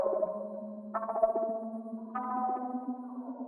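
A sustained tonal sample from the Panorama expression, pitched down twelve semitones with the lows cut, plays as a dark, warbly drone. Its harmony steps up twice, with a washy, effected texture throughout.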